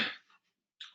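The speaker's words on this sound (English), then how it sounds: "Apologies, I do apologise for the cough." A single harsh cough bursts out close and loud, breaking off into silence, then a short sharp second cough or throat sound follows right at the end.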